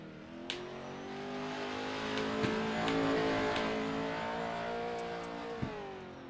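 Pro 2 Lites race cars lap Limaland in a racing video game, a steady droning engine note holding near and loud with slight pitch shifts and a couple of faint clicks.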